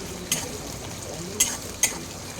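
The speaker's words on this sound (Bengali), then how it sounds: "পেঁয়াজটাকে ভালো করে ভেজে নেব" Onions frying in refined oil in a pan, a steady close sizzle with a few sharp taps of a spoon stirring against the pan.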